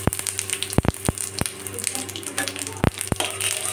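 Cardamom pods, cumin seeds, a dried chilli and bay leaf hit hot oil with sugar in a pan for a Bengali mutton curry, giving a steady close sizzle broken by sharp crackling pops.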